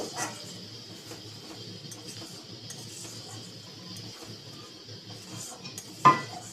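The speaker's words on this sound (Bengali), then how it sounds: "সব মশলা ডাল ভালো করে আর একবার কষিয়ে নেব" Spices and dal being stirred in a cooking pan for an egg curry, a low continuous scraping and rustle over a faint steady background hiss, with one sharper clink near the end, close and fairly quiet.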